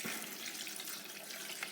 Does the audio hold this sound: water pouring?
yes